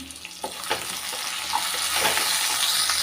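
Curry leaves go into sautéing onion, garlic and ginger, and the frying hiss swells to a louder, fuller crackle, with scattered stirring clicks throughout.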